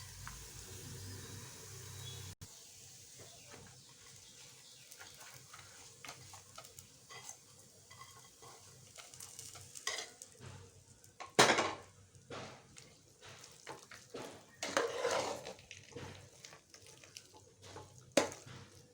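A spoon stirs fried tempering into sambar rice in a pan, giving soft scraping and intermittent metallic clinks that build in the second half, with a few sharp knocks. No one speaks.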